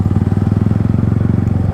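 Yamaha MT-15 motorcycle fitted with an Akrapovic exhaust, ridden in the hills, burbles close and loud with a rapid, even pulsing exhaust note.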